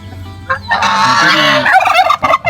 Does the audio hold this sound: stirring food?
no